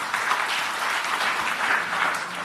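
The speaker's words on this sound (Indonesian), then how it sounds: "Tepuk tangan yang meriah bagi Tuhan" A church congregation applauds enthusiastically during a sermon, a dense, even wash of clapping from many hands that holds steady throughout without speech over it.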